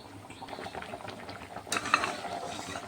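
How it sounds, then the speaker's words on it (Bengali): Whole spices, including star anise and mace, are tipped into a pressure cooker. Light rattling and clinking are heard, followed by a brief brighter clatter, with no talking. "মশলাগুলো আমি এখন প্রেসার কুকারের মধ্যে এই যে দিয়ে দিচ্ছি।"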